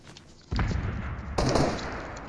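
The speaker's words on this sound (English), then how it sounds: "Oh my gosh, so many people shooting." Dense bursts of gunfire from many players in a Fortnite match, starting abruptly and swelling louder halfway through, loud and continuous with no talk over it.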